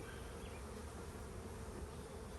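Honeybees drone around an open hive that has not been smoked, a dense, steady buzzing close by with no pauses and no voices.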